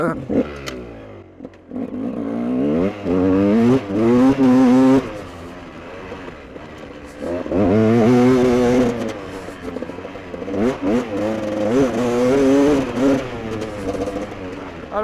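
A freshly repaired GasGas dirt bike revs hard in repeated surges, its engine climbing and falling in pitch through several loud throttle blips close by, with brief pauses between bursts.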